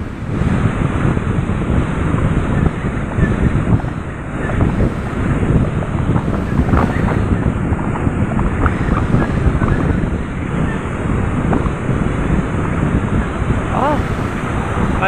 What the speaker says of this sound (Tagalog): ang lakas ang hangin dito